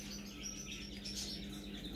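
A severe macaw chirps softly indoors while being cuddled, small high tweets scattered over a steady low background hum, fairly faint and without talk.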